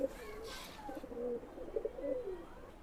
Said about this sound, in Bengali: চমৎকার চীনা টেডি কবুতর মাশাআল্লাহ